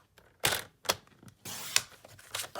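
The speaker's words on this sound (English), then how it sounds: "I flip it over, and I'm going to cut at 4 1/4." Cardstock is cut on a paper trimmer with a handful of sharp, close mechanical clicks and quick sliding swipes, separated by brief pauses, with no voices.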